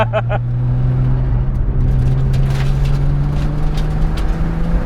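A Nissan Skyline GT-R34 on a track powers down the straight, its engine a loud, steady, close drone that holds a rising pitch for several seconds.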